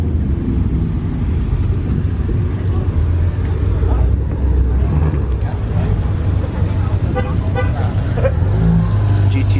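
A Ford Mustang GT350 rolls past at a car meet, its deep engine rumble loud and steady throughout, with crowd chatter and a brief horn toot in the mix.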